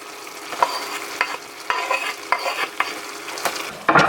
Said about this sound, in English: And then I'm gonna stir in the green onions.